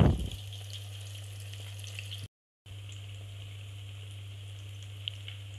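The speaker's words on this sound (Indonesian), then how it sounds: "Di sini aku menggoreng" Steady crackling sizzle of milkfish frying in hot oil, close up, with a low hum underneath and a brief dropout partway through.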